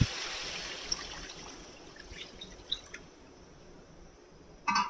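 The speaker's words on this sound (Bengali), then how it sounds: "এবারে এটাতে দিয়ে দেব জল" Water, about a litre, poured into a pan of cooked spices for a rohu fish curry, heard as a faint, steady trickle with a few soft drips and splashes.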